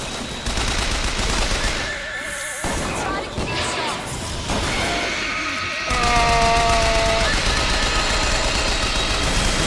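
Rapid automatic gunfire rattles in the video game Bioshock Infinite, bursts of shots and crashes layered with in-game effects and music, while a player talks excitedly over the action.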